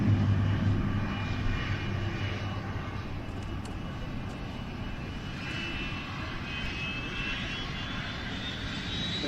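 A fixed-wing aircraft passes overhead at the Odiham air display, its engine a steady, loud broadband roar held for the whole stretch, with a faint rising whine high above it.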